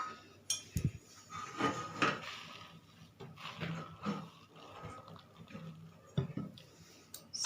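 A spoon stirs and scrapes through fermented pearl millet idli batter in a bowl, with soft irregular rubbing and a few light clinks against the sides.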